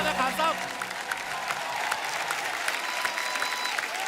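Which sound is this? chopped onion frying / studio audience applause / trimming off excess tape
studio audience applause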